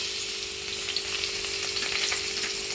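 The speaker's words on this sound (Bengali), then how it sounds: "এখানে আমার তেলটা গরম হয়ে গেছে আমি এখানে প্রথমে যেটা দেব রসুন কুচি" Chopped garlic sizzles in hot oil for chili chicken, a steady close crackle with faint stirring and a low constant hum underneath.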